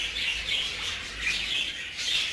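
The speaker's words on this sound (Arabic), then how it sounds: "وهذه الطيور" Many birds chirp and twitter together in a busy, continuous chorus at a bird reserve after rain, rising and falling in waves.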